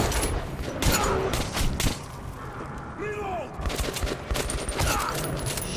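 Dense, rapid gunfire from the video game Metro 2033 Redux, a continuous barrage of close shots and thuds with game effects layered in, loud and sustained throughout.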